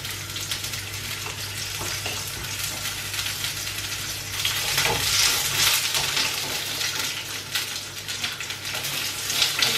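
Courgette spaghetti sizzling in a hot frying pan, a steady crackling hiss with occasional stirring scrapes, close and continuous with no talking.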